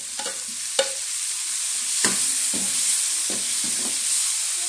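Onion and tomato hit a hot pan and sauté with a continuous sizzle, while several sharp utensil scrapes and knocks land at irregular intervals and no one speaks.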